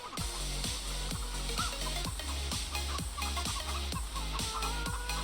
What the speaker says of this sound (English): Ooh, other way, hens, coming through.